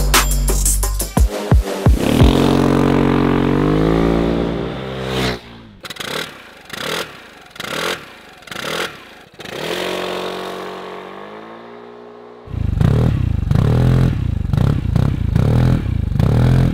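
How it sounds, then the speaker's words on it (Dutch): A Vespa GTS 125 or 300 scooter fitted with a Remus RS 2.0 aftermarket exhaust revs loudly and close, rising in pitch, then settles into a series of short blips before accelerating hard again. "Het uitlaatsysteem klinkt een heel stuk dieper en sportiever dan het origineel"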